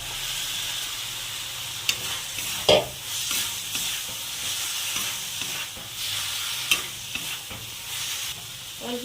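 Spice paste and okra frying in a pan while being stirred, a steady close sizzle broken by repeated scraping strokes of a spoon, no talking.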